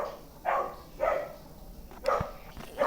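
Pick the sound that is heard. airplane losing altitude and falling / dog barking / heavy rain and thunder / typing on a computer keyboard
dog barking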